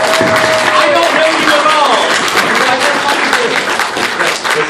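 A crowd applauds at a convention panel during Retropalooza, loud continuous clapping and some cheering from the audience, with voices talking and calling out over the noise throughout.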